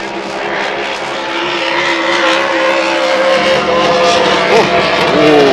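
A race car engine roars steadily nearby during time trials at the Valleyfield Grand Prix, its note stuttering and popping unevenly as it misfires, with a voice faintly underneath.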